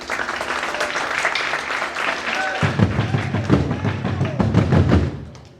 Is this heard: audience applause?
yes